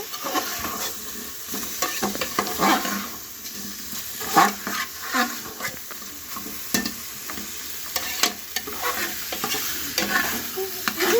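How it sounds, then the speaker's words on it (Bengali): A mother stirs chicken stew in a pot, with a spoon scraping and knocking in irregular bursts over a steady sizzle. There is no talking. "দেখুন মা এখনো নাড়ছে।"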